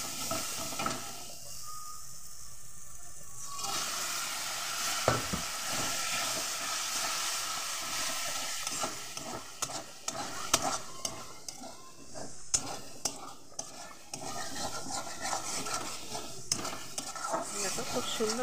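Water hits frying masala spices of cumin and coriander powder in a pan, bursting into loud sizzling steam that fades into a bubbling simmer, with utensils scraping and clinking as the mixture is stirred.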